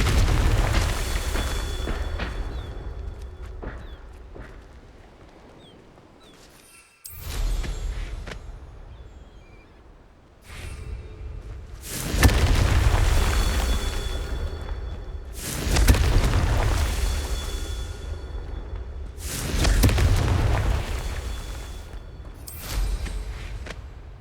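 Confringo blasting spells exploding in the video game Hogwarts Legacy, a series of about five heavy booming blasts a few seconds apart, each with a deep rumble that swells and fades before the next, with no talking.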